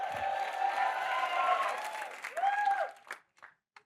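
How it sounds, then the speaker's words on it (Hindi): Studio audience applause with clapping and crowd noise from a Hindi comedy show, filling the first three seconds steadily, then dying out into a few scattered claps and a short tone. "जोरदार तालियां मेरे लिए।"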